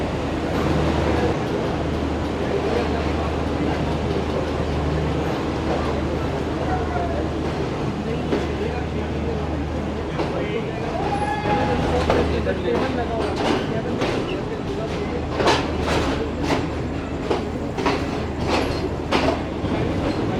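The Shalimar Express from Karachi to Lahore rumbles along, heard from inside a parlour car: a steady low roar with rhythmic clickety-clack of wheels over rail joints growing sharper near the end, with people talking over it.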